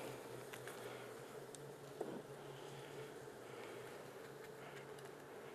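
Honey bees buzzing around hive frames during a honey harvest, a faint steady drone with a few soft knocks and shuffles close by, no voices.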